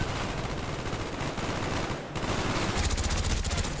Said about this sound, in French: Mitrailleuse dans la tour.